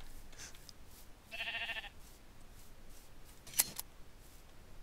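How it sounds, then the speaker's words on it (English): Sheep are sheared with shears in the video game Minecraft, giving one short crisp snip burst near the start and a sharp click shortly after, both close and clear over a quiet background. "if I'm going to go near sheep, I might as well shear them."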